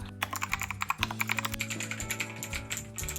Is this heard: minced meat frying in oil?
no